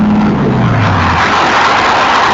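A ZR-1 Corvette race car engine fires back up on course, a loud close roar whose pitch sweeps downward over the first second before settling into a steady rumble.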